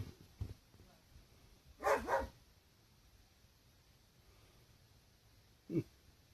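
A dog outside lets out a quick double bark, then one more short bark several seconds later, moderately distant against a quiet backdrop.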